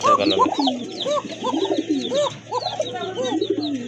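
A red Koka pigeon coos close by in a string of repeated, rolling, throaty calls with short gaps between them.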